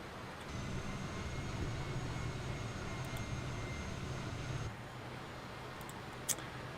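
Engines of a vintage airliner in Microsoft Flight Simulator 2020, winter operations, throttled back to idle: a steady, even drone that eases slightly lower partway through, with a faint click near the end.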